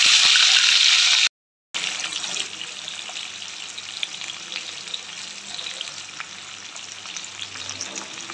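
Chopped onion with asafoetida fries in hot oil in a pan, producing a loud, dense, continuous sizzle with a brief cut-out near the start, then a softer steady crackle.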